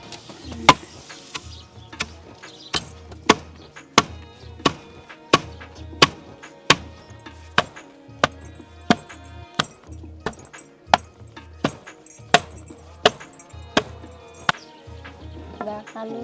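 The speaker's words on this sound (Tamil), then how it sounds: "இப்போ வறுத்து வச்ச கொத்தமல்லி செலவெல்லாம் உப்பு இடிச்சுக்கலாம் கண்ணு." Roasted coriander, chilli and salt pounded in a stone mortar: steady, evenly spaced hard thuds, each a sharp close knock, repeating roughly twice per second over a faint background.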